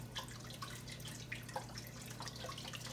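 Regular stock pours steadily into a pan of smothered chicken drumsticks, a continuous wet trickle with small splashes and drips lasting the whole stretch, close and moderately quiet over a low kitchen hum.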